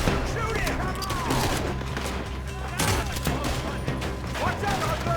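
Gunfire in a Red Dead Redemption 2 shootout, with dense overlapping shots and bursts over a continuous battle din for the whole stretch, and speech mixed in.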